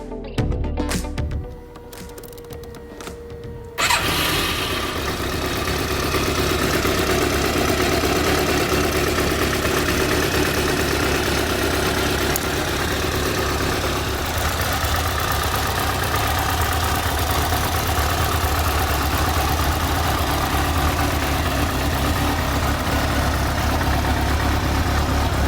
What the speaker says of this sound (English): We'll go ahead and listen to a quick startup on it